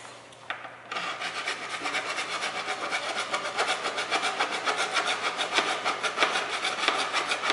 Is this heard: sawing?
yes